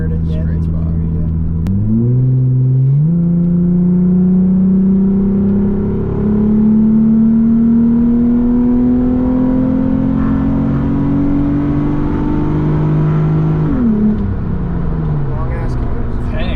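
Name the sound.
Nissan Z32 with VQ engine revving and accelerating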